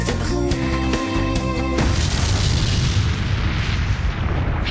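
Bomb explosion in a Nancy Drew video game: after a sustained tonal musical passage, a heavy boom bursts in and leaves a broad, loud rumbling roar that slowly fades.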